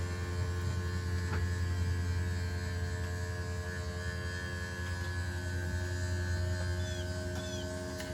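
An RV slideout motor extends the bed slide with a steady electric hum and buzz, continuous and fairly even throughout, moderately loud in a quiet interior.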